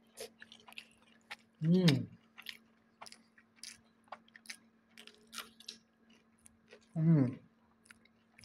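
Someone eats curry rice with squeezed lemon, with two distinct close chewing bursts a few seconds apart among small scattered mouth clicks and faint hums, in an otherwise quiet room.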